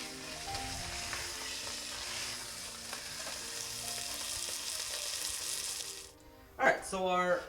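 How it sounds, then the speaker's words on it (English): Beef browning on all sides in a hot pan gives a steady close sizzle with light stirring, then a short clatter and a louder burst near the end as the pieces are moved. "all I'm doing here is just roasting every side of this until it gets a little bit darkened, gets a little bit charred"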